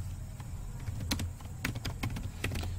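Rapid clatter of keys on a computer keyboard as a terminal command is typed, irregular clicks in quick bursts, close and alone with no talking.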